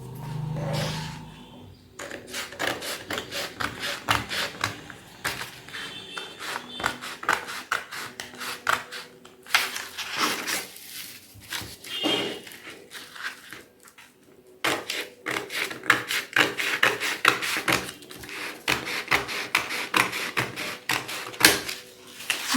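Scissors cut a piece of fabric for blouse marking in a run of rapid, crisp snips. Brief pauses split the cutting, which is close and clear throughout.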